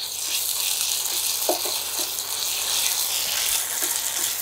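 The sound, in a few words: ginger garlic paste frying with onion in a pan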